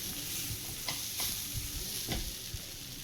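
Paneer ball mixture seasoned with sugar and chaat masala being stirred in a pan, with a soft continuous sizzle and a few brief scrapes of the spoon, no voices.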